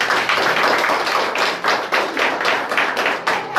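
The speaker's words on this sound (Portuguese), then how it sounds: "Aplauda Jesus." A church congregation at a water baptism service claps in a loud, rhythmic burst of applause, with regular hand claps packed close together throughout.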